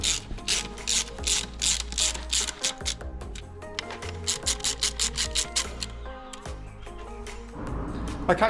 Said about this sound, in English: I'm also going to put the bolts back in there